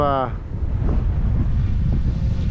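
Steady wind buffeting the microphone outdoors while an OMP M2 V2 RC helicopter is flown, a constant low roar filling the whole stretch after a short tonal blip at the start.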